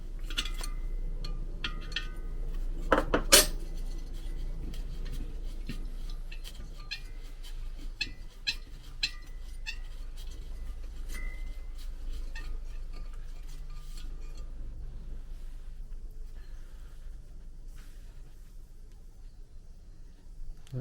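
A spanner works a glow plug out of a Chinese diesel heater, giving small metallic clicks and clinks, one sharper clatter early on, over a low steady hum in a quiet workshop.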